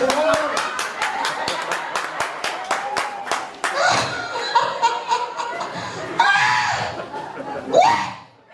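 Audience at a church service led by a pastor clapping in a run of sharp, evenly spaced claps at the start, then giving way to laughter and chatter from the crowd.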